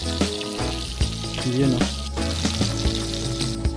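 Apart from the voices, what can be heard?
milkfish (bangus) frying in a pan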